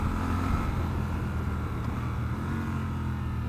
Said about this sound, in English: There's that slipper clutch.